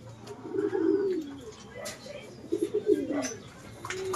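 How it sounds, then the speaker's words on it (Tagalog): Racing pigeons coo in low, throaty rolls at a club loft during derby training, with two clear bursts of cooing over faint background noise and a bird call now and then. "Sa ating kalapate"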